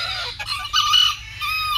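Caged chickens and roosters clucking and crowing, a loud, close, continuous cackling chorus with overlapping calls.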